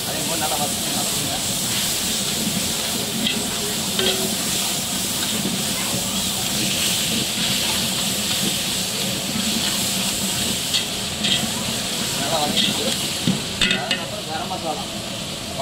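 Cinnamon, cloves and cardamom fry in hot oil for a seeraga samba mutton biryani, giving a steady, dense sizzle and hiss that runs unbroken throughout, with occasional stirring and a faint voice in the background.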